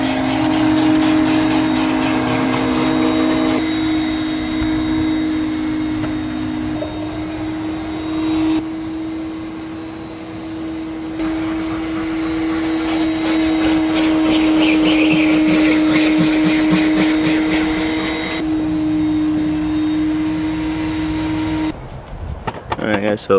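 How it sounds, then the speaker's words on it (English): A vacuum cleaner works over the carpet inside a turbocharged Honda Accord, a steady loud whine droning for the whole stretch with shifts in pitch as the nozzle moves, and speech is heard along with it. "so been vacuumed and everything"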